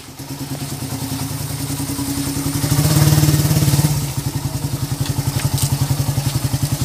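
A Suzuki Raider 150 New Breed motorcycle engine running on a road test, a steady close pulsing exhaust beat that swells louder in the middle as it revs, then drops back to a rhythmic idle-like thrum.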